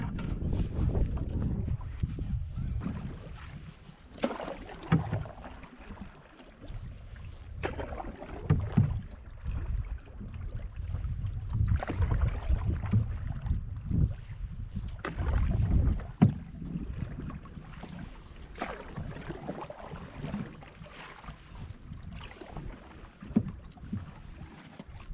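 A canoe paddled through rough water in gusting wind, with wind buffeting the microphone in heavy low rumbles, water sloshing and paddle strokes splashing irregularly close by, and no speech.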